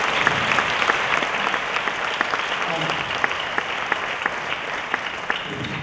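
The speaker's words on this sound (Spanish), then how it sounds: "yo pediría un fuerte aplauso primero para ustedes por haber venido" An audience at a live Elvis tribute show claps steadily, with a broad wash of many hands and a few sharper individual claps standing out near the front, sustained and moderately loud throughout.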